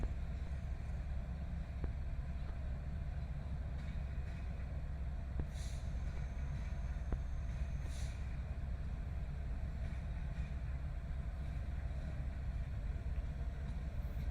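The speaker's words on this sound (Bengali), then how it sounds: "ওই যে যে ইঞ্জিনটা গেল সোজা দিকে ওটি আবার ব্যাক করে আসছে" A railway locomotive reversing back along the track at Parbatipur railway junction, a steady low engine rumble held throughout with faint clanks and a brief high squeal or two, moderately distant and without talk.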